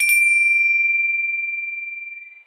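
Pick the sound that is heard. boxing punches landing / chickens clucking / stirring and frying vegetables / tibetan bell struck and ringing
tibetan bell struck and ringing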